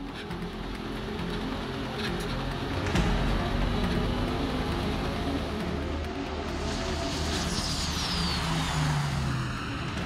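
A tuned Toyota Land Cruiser with around 2000 horsepower on a high-speed test run: a steady, loud broadband road and engine roar that holds for the full stretch, swelling slightly midway, with wind rush and no talk.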